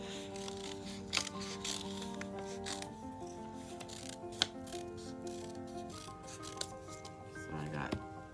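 Scissors snip through paper for a collage, soft repeated cuts and rustling close by, set against a steady hum with faint background tones.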